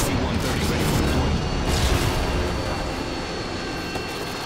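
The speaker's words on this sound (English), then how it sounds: "Our AC-130 is in the air." Low rumbling engine drone of an AC-130 gunship flying in the video game Modern Warfare 2, a loud steady roar with a few thuds mixed in, easing slightly toward the end.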